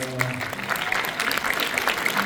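Applause from a cinema audience at a film festival opening ceremony in Paris, a steady, dense wash of clapping filling the hall for a couple of seconds, with faint voices beneath.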